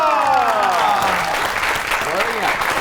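A studio audience on a Pakistani comedy talk show applauds throughout, continuous dense clapping under a host's voice and tonal music.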